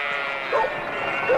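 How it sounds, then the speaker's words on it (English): Sheep bleating in a 1987 film, two short wavering bleats over a steady background hum of the scene. "Oh wait, is that her? Get those sheep from that wagon out of here!"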